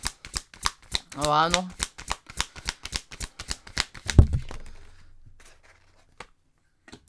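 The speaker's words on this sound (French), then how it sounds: "On va chercher 3 cartes avec un oracle" Oracle cards are shuffled in a quick run of crisp, rhythmic riffling slaps, followed by a brief rustle as cards are drawn, with a short spoken exclamation partway through.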